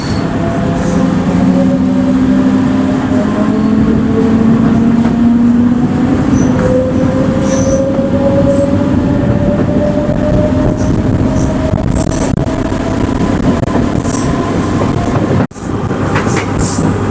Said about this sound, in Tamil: வண்டி பயங்கரமாக ஆக்சிலரேஷன் எடுக்கிறாங்க.